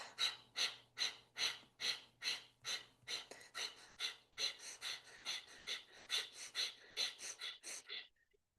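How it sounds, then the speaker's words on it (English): Quick, rhythmic breaths huff out through the nose, about two or three per second, close and steady for several seconds before stopping. "Exhale through the nose like a dog panting it out."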